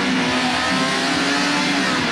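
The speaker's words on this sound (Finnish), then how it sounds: "Ja siellä moottori ottaa vähän kierroksia lisää." A stunt car's engine revs hard and steadily, loud and close, at a summer-tour stunt show built around T-bone crashes, with a continuous roar and no speech over it.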